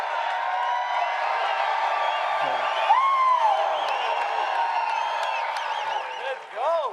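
Press conference crowd at a UFC 247 event, a steady dense murmur of voices with scattered whoops and cheers, loud throughout, with people talking over it.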